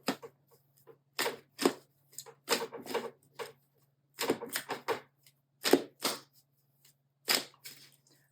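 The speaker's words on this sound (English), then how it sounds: "hope you guys can see me shuffling." A deck of tarot cards being shuffled by hand, giving repeated bursts of crisp riffling and card flutter in irregular clusters, fairly close with short pauses between, and a steady low hum underneath.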